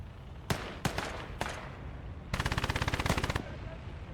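Gunfire in the Gates of Hell: Ostfront war game: three separate loud single shots, then a sustained rapid machine-gun burst lasting about a second, close and sharp against a steady battlefield background.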